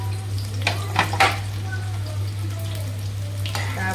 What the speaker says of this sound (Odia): ତାପରେ କିଛି ସମୟ ପାଇଁ ଫ୍ରାଏ କରିବା ପିଆଜ